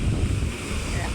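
Strong sea waves beside a beachfront resort roll in as a steady, loud wash of surf, blended with gusty wind noise on the microphone across the whole short stretch.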